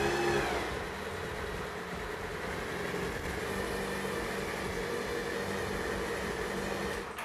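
A Skymoto motorcycle engine runs steadily after starting, a close, even idle hum with a brief rev at the start and no voices.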